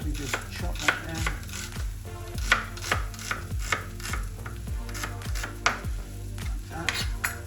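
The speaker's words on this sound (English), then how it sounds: "I'm just going to simply just chop that down" A knife chopping vegetables for a vegan lasagne on a cutting board, with rapid, fairly regular close thuds repeating throughout over a faint background hum.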